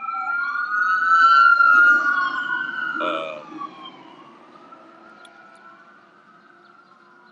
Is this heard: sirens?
yes